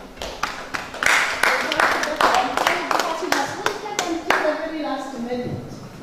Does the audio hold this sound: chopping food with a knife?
no